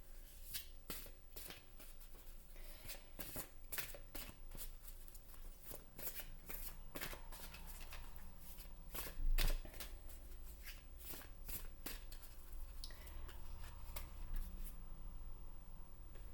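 Tarot cards shuffled by hand, a steady stream of soft riffling flicks and slaps that runs throughout at a quiet, even level with no talking.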